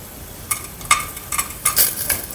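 Crushed masala spice mix hits hot oil, sizzling in short sharp bursts over a faint crackle, with light stirring clinks from a utensil in the pan.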